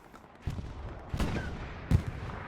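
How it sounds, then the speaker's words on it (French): An anti-tank gun firing in a war strategy video game battle, three sharp booming shots spaced evenly apart, with fainter rumble between them. "C'est un canon AT qui est en train de tirer là-bas."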